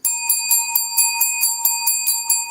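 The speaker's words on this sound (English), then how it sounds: "I'm ringing the bell for you." A small bell rung over and over in a steady, rapid rhythm, each bright metallic strike ringing with sustained tones, close and loud with no talking.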